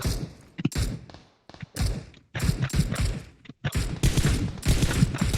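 Bursts of gunfire in the PUBG Mobile video game, close and loud, coming in repeated rapid volleys separated by short gaps.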